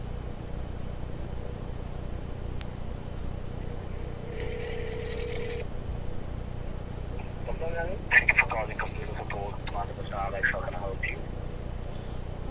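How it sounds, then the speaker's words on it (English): An outgoing telephone call gives one faint ringback tone over a steady line hiss, followed by a distant voice speaking on the line. "It's ringing."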